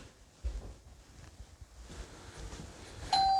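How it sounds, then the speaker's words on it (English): A doorbell rings once inside a cottage for sale, a steady electronic chime arriving near the end after quiet room noise and footsteps. "Doorbell's working, somebody at the door."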